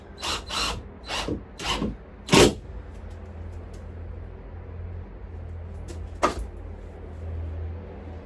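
Screws driven into a van ceiling with a power drill during a camper build, a run of five quick whirring bursts close by, then a long pause broken by one more short burst.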